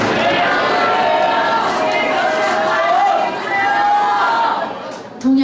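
A church congregation shouts together after a countdown, a loud sustained roar of many voices that holds for several seconds and then briefly dips near the end.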